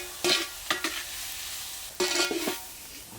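Onions sautéing in oil with salt for an egg masala gravy, with a steady sizzle broken by a few sharp scraping stirs of a spatula against the pan.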